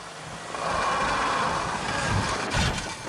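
2018 Subaru Outback engine in off-road X mode getting a little throttle, a steady moderate hum rising slightly from idle with faint surging, no voices.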